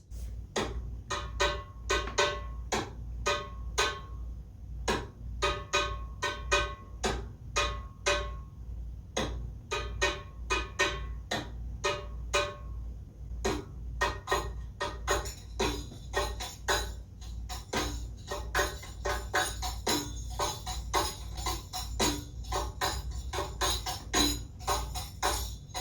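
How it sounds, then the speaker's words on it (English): Percussion playing the shiftatelli, an 8/4 rhythm: steady, evenly spaced dry strikes over a low sustained hum, with accented hits and fuller, denser tapping in the latter half, no talking. "The shiftatelli is an 8/4 rhythm, and it sounds like this."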